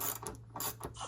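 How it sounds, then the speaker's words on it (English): A ratchet loosens a bolt on the recirculation pump of a GE GTW680BSJ1WS top-load washer, giving a few quiet, close clicking strokes in short bursts. "undo the bolt."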